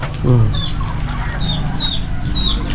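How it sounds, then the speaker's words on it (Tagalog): Hens cluck close by in a barnyard, with a few short higher calls and a low vocal murmur early on. "Mga alaga kong manok, oh."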